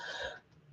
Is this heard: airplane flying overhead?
no